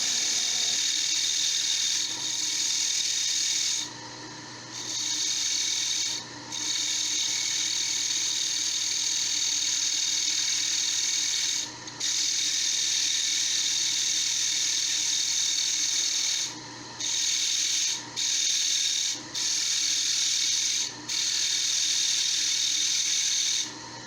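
Wood being turned on a lathe into a candlestick, a steady high-pitched whine and scraping from the tool that runs continuously, broken by several short pauses, close and loud with no voices.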